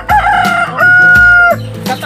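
A rooster crows loudly and close by, one long, drawn-out call with short clucking notes before and after, and no speech.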